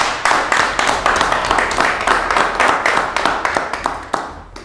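An audience claps at a press conference on security in Nigeria's Southeast, a steady run of sharp, fairly loud hand claps close by, with a faint voice in the background.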